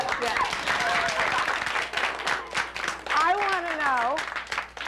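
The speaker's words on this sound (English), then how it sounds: "We should give him a clap." An audience claps for a guest's father, a crowd of hands patting steadily under talk, with a voice's rising and falling pitch sweeps standing out above the clapping.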